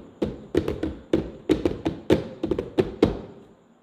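Fingers tap repeatedly on a Boya 3031 indoor microphone, about a dozen sharp, close knocks in an uneven rhythm with brief decays between them and no voices.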